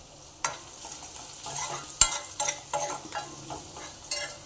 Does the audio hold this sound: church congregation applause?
no